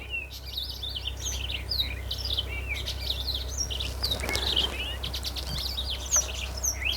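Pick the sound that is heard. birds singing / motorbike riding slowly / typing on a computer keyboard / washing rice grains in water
birds singing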